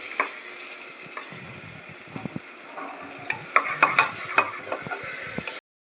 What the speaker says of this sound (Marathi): आता आपण हे सगळं परतून घेत आहोत एकजीव करून घेत आहोत